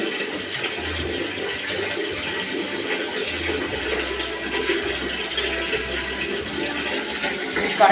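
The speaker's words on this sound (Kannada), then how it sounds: "ಗೀಜರ್ ನೀರು ಗರಂ ಆಗಿ ಬರ್ತಾವೆ" Hot water gushing from a geyser, a steady rushing flow that runs the whole time with a faint low hum coming and going beneath it.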